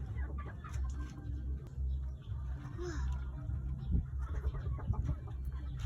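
A chicken clucks faintly amid noisy outdoor background rumble, its short calls scattered and not prominent.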